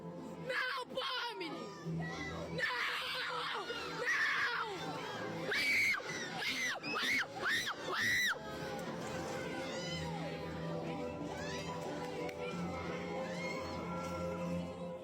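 Inside a cinema during a Digital Circus screening, young audience members scream and shriek in loud, piercing bursts that cluster midway, then fade into a noisy crowd murmur of chatter.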